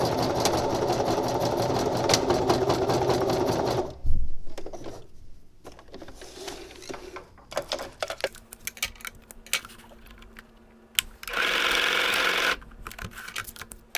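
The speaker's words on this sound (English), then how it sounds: "line up your needle, and sew your piece on" A sewing machine stitches Velcro onto a nylon bike seat bag in a fast, steady whirring run. It stops, then starts again for a shorter burst after a stretch of quiet handling noises.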